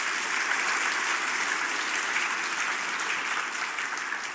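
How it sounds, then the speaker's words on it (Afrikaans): A church hall audience giving a final round of applause for children at a confirmation service, dense continuous clapping from many people, even and sustained. "Laaste hande klap vir ons Blydenstadskinders"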